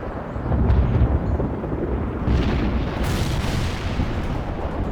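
An Mi-24 gunship fires an anti-tank missile in World in Conflict, heard as a deep rumbling launch boom followed by a second rolling blast and sustained low roar, loud and close, with no speech.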